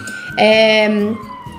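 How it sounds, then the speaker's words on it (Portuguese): An ambulance siren near a hospital in Mexico City sounds as a single wailing tone that swells for about a second and then fades, nearby and clear, with a little speech around it. "Não sei se vocês estão ouvindo aí a ambulância."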